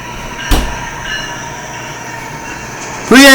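A CN westbound mixed freight train led by three engines in Durand, Michigan, rumbles steadily with a sharp bang early on, then a loud horn blast bursts in near the end.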